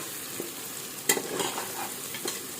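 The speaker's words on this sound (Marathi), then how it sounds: "असं मध्ये मध्ये हलवत राहायचं" Softened tomatoes fry in a pan as a spoon stirs them, with a steady close sizzle broken by a few scraping clicks of the utensil against the pan.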